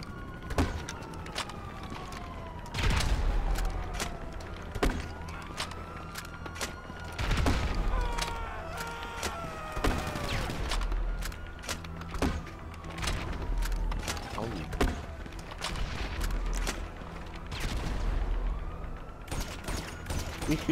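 Rapid bursts of gunfire and grenade blasts in a Grand Theft Auto V online match, repeated sharp shots and a few low thuds at moderate distance, with a siren-like wail and faint traffic in the background.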